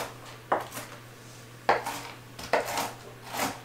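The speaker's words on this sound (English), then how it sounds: "I need to chop these up" Whole pecans chopped with a knife on a board, three or four distinct knocks and crunches spread over a few seconds, close and moderately loud above a low steady hum.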